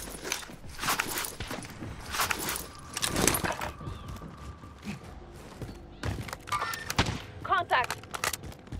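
Gunfire and movement in Warzone on Rebirth Island, with bursts of shots, footsteps and clattering thuds in irregular clusters, loud and close, while a voice talks over parts of it.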